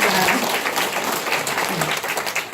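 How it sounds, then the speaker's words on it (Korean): A crowd applauds loudly and continuously, many hands clapping together in a dense, sustained burst. "다시 한번 큰 박수 부탁드리겠습니다"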